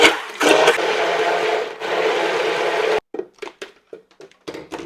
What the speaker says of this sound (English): Now we're going to blend the silken tofu till it's nice and creamy.